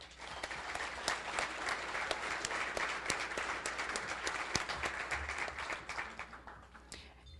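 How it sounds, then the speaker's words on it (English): A room of attendees at a chamber of commerce meeting applauds to welcome new members, a continuous wash of many hands clapping, heard from a distance and fairly faint, with no talking. "Please join me in welcoming these new members with a round of applause."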